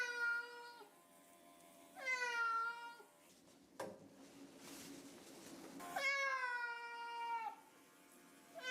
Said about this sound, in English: Deaf cats don't know how loud they are, so they tend to meow very,